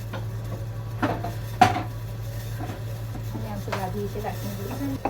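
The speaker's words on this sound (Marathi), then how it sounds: "हा आमचा दादू इथे लाटणं घेऊन खेळत आहे" A young child bangs a wooden rolling pin around a home kitchen while a pressure cooker heats on the gas stove. Scattered clattering knocks and one sharp clack sound over a steady low hum, with a faint voice nearby.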